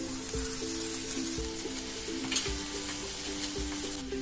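Onions frying with ginger garlic paste sizzle steadily under a regular rhythm of spatula taps and scrapes against the pan, about one stroke per second.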